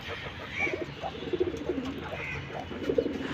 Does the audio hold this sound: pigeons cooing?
yes